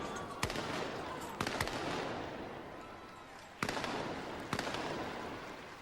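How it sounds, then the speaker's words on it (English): Field gun crews, including Devonport's, firing rounds at a 1986 field gun competition: four sharp, loud reports spaced a second or two apart over a continuous crowd roar. "Down come the spars, and off they go to fire their rounds."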